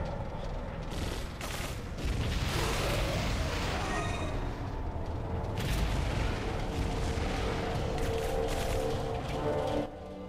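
Gun battery aboard a battleship in the video game Separate Ways firing in sustained heavy bursts, booming volleys rolling over one another for about ten seconds, loud and close.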